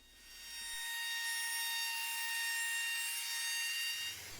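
The corners of a wooden Morris chair are rounded over with a router or sandpaper, giving one continuous whining, rubbing burst of about three seconds with a steady tonal edge, close up and alone.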